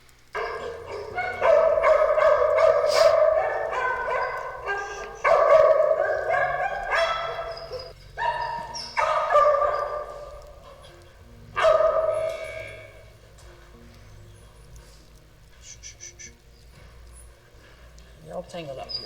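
A dog barks in repeated loud, harsh bursts at close range, with pauses between volleys and someone speaking over part of it.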